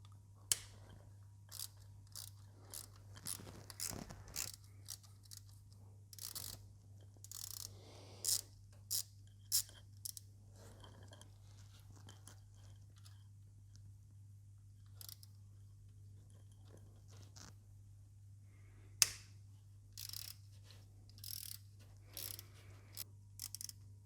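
Ratchet clicking in short bursts while removing two 5mm screws from a lower timing guide below the crankshaft sprocket on a Subaru Legacy 3.0, quiet and intermittent over a steady low hum.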